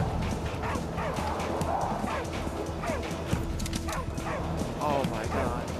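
Dog barking inside the video game Arizona Sunshine, a series of yips and barks repeating close by throughout, mixed with game noise and someone talking over it.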